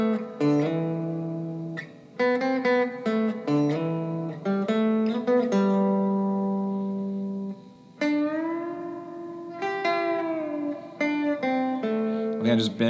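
Electric guitar playing the bridge of a song, sustained melodic notes with bends and slides ringing out steadily and close, alone without talk.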